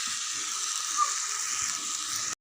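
Chicken pieces sizzle steadily while being sautéed and browned in a hot pan, a close, continuous frying hiss with no talk, cutting off abruptly at the end.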